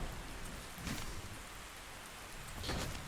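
Steady rain falls across a game world in ARK Survival Ascended, a dense continuous hiss of drops with a few heavier swells and faint low rumbles underneath, no talking.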